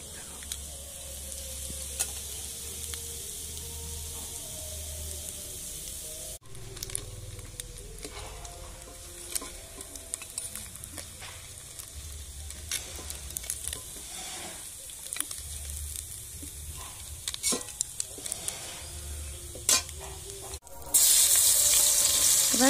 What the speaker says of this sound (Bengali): এরপরে বাকি মাছগুলোও ভেজে নেব